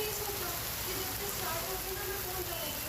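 Heavy monsoon rain pours in Bhiwadi, Rajasthan, a dense, constant hiss of downpour on surfaces that stays loud and unbroken from start to finish.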